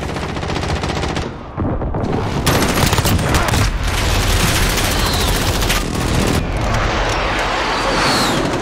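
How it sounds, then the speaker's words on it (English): Heavy, dense barrage of explosions and rapid automatic gunfire during an online Call of Duty: Modern Warfare hardpoint match, loud and continuous with booming blasts and a brief lull near the start. "Allied precision airstrike incoming."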